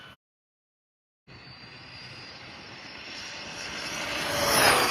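A 4S-powered high-performance RC car at full throttle gives a rising, high-pitched electric motor whine that builds steadily louder over several seconds after a brief silence, with no talking.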